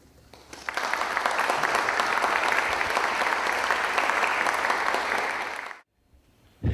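A lecture audience greets a speaker taking the stage with steady, dense applause that swells, holds for several seconds and then stops abruptly.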